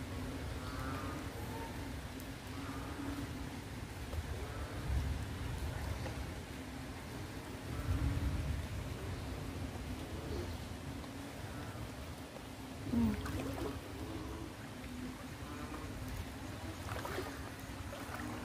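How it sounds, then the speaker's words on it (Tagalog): Steady heavy rain pours down during flooding in a dense, continuous hiss with a low rumble underneath, punctuated by a few louder splashes. "malakas na yung ulan"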